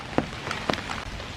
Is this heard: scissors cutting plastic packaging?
no